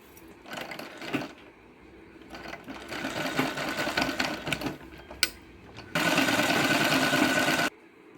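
A sewing machine stitches a fall onto a saree in several runs of rapid mechanical whirring. Short bursts come first, then a longer, steadier run that ends abruptly, all close up with no talking.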